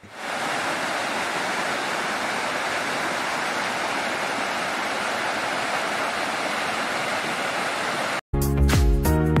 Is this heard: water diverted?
yes